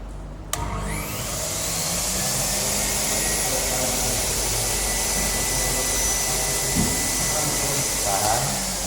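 An air blower unit used in a lab experiment starts at about half a second and runs steadily, a loud broadband whooshing drone with a faint low hum underneath.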